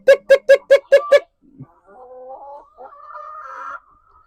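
Six quick rhythmic calls open the clip as a person calls farm chickens, then soft, low clucking follows nearby.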